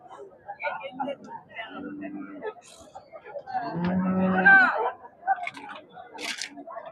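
Cows moo at a busy cattle market in Tamil Nadu, one loud low bellow standing out amid scattered chatter and market bustle.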